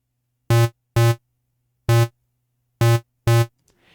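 Five short, identical notes of a square pulse wave from the Pigments synth, filter switched off, buzzy and harmonically rich, played in an uneven rhythm with clean silence between them.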